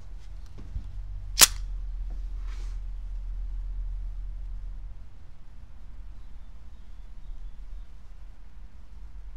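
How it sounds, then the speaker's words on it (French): A single sharp pistol shot from a Mauser HSC in 7.65 Browning, heard once, crisp and fairly close over a low background rumble, with a faint click afterward. "on va continuer de faire quelques tirs rapidement"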